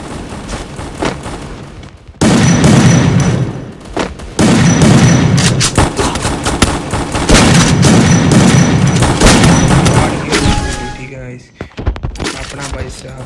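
Shotgun blasts in a video game, several loud booming shots and sharp cracks in bursts after a quieter opening, with voices talking at times.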